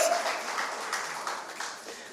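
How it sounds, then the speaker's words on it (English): An audience applauds at the official registration ceremony of the Good Hope Farmers' Cooperative: a steady, fairly soft wash of many hands clapping that fades slightly toward the end. "Let us give ourselves a round of applause because we worked hard to get"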